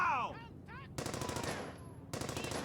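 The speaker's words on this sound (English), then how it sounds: "Now that they've heard the gunshots," Machine gun fire in the video game Brothers in Arms: Hell's Highway, two loud sustained bursts of rapid shots with a short gap between them, following a few brief whistling game sounds.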